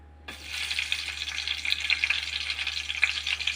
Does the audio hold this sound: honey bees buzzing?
no